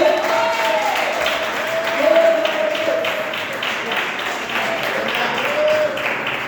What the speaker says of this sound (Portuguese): bata palmas para Cristo.